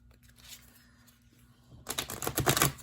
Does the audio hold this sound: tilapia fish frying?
no